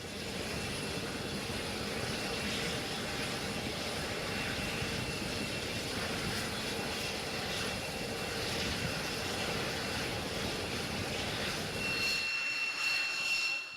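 An X-47B unmanned aircraft's engine runs on an aircraft carrier flight deck, a steady broad roar with a faint high whine, fairly distant and uniform, easing off slightly near the end.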